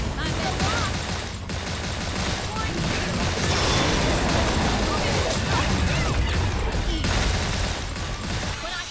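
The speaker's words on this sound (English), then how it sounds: "We're just shooting this thing." Dense, continuous gunfire from the video game Xenoblade Chronicles X fills the mix at high volume, with overlapping blasts, crashes and mechanical clatter in a sustained barrage, no speech heard.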